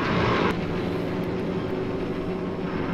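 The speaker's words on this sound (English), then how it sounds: "Takes a lot of skill to make a helicopter do a 360 like that." A helicopter flying a loop in a classic Doctor Who serial, Fury From The Deep, drones steadily from start to finish, with a brighter engine roar at first that then settles into a constant mid-level hum.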